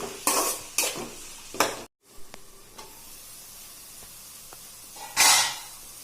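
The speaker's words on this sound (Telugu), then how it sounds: "ఇవన్నీ ఒక టెన్ మినిట్స్ ఫ్రై చేసుకోవాలండి ఆనియన్స్ పచ్చిమిర్చి కలిపి" Chopped onions and green chillies fry in a pan, with bursts of loud sizzling and stirring as the pieces are turned, then a quieter stretch with faint clinks before another strong sizzle near the end.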